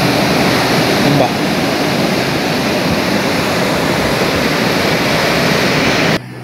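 Heavy sea surf breaking against rocks during extreme weather along a coastal road from Masohi to Ambon, a loud continuous roaring wash with no distinct individual crashes, dropping off abruptly at the end.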